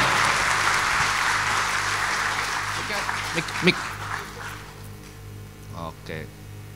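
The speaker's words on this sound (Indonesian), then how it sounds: "kasih tepuk tangan yang paling meriah ke bosnya Holy Wings Group, Andrew Susanto." An audience at a stage event gives loud applause to welcome a guest; the clapping is dense at first, then thins and fades as faint voices take over.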